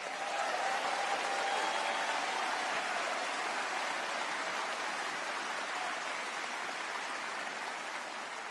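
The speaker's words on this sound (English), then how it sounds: "keep the applause coming for his wonderful wife" An audience applauds at a Jewish community event in Sydney, a continuous hiss-like wash of distant clapping from a large crowd that stays even throughout and tapers slightly at the close.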